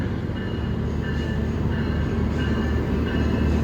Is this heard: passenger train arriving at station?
yes